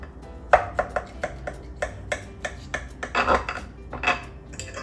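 A knife slices through a sweet potato spinach quiche, giving a series of sharp clinks and scrapes against the plate or pan in an irregular rhythm, close and clear with no talk.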